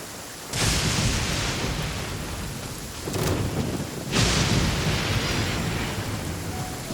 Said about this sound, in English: Please stay indoors until the storm passes.